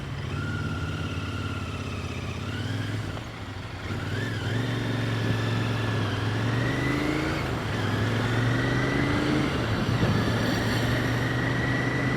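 Royal Enfield Interceptor 650 motorcycle accelerating on a road in Bulgarian traffic, its engine note rising steadily through gears in a continuous, loud, close drone lasting the whole stretch.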